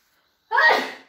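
A single sudden indoor sneeze bursts out after silence, loud and close, then fades over about half a second.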